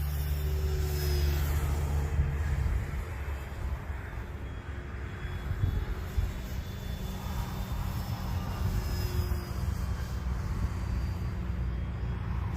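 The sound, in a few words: radio-controlled airplane flying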